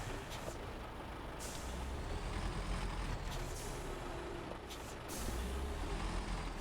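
A heavy truck in a SnowRunner search-and-recover mission reverses and turns awkwardly. A low diesel engine drone holds steady throughout, with a few short air-brake hisses and no talk.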